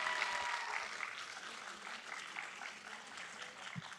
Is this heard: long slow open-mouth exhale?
no